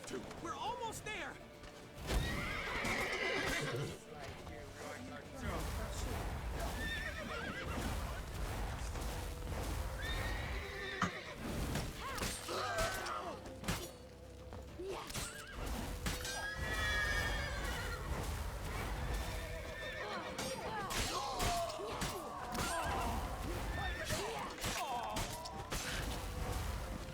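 A horse in The Witcher 3 video game whinnies loudly and its hooves clop and thud amid clattering game noise, with people talking over it throughout.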